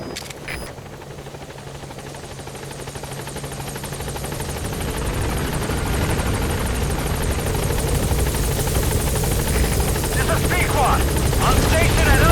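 Helicopter rotor and engine noise from the B-Quad transport arriving at a landing zone in Metal Gear Solid V: The Phantom Pain, a steady loud whir building gradually as it closes in, with faint radio voices underneath.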